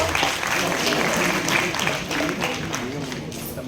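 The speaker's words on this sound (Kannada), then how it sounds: "ಮತ್ತೊಮ್ಮೆ ಅವರಿಗೆ ಜೋರಾಗಿ ಚಪ್ಪಾಳೆಯನ್ನು ಕಟ್ಟಬೇಕು" Audience applause at a live comedy event in Bidar, a dense sustained wash of clapping from a crowd that fills the clip and gradually thins toward the end.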